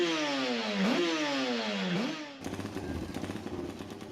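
A classic Manx Norton racing motorcycle engine revs hard through two rising sweeps with gear changes, then settles into a rough, loud, throbbing idle alone.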